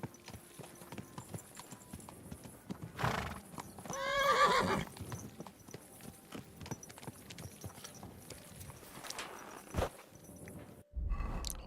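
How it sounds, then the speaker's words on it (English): A horse in Kingdom Come Deliverance 2 clip-clops along with hoofbeats, then gives a loud neigh and whinny midway through, with further snorts and hoof sounds close by. "Horsey."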